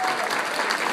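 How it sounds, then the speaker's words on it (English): A short burst of dense audience applause at a political gala honoring staff, loud and steady throughout with no voices over it. "A round of applause."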